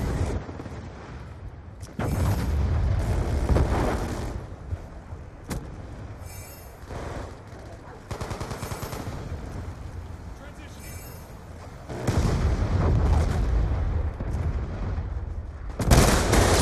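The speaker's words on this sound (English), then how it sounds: "Friendly Hellstorm missile inbound." Heavy booms and rumbling blasts from a Hellstorm missile strike in a military shooter video game, arriving in several loud bursts over a constant low battle din, with radio-style voice callouts in the game.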